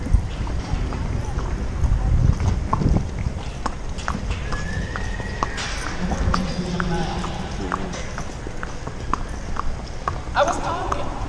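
A young horse walks in a circle at a professional rodeo, its hooves clopping irregularly amid busy outdoor background noise, with people talking throughout.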